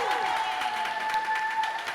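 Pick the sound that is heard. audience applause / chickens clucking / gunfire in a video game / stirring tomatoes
audience applause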